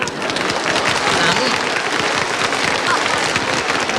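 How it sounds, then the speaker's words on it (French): Applause from an audience at a small French song performance, steady dense clapping filling the space, with voices mixed into the noise. "dames applaudissent"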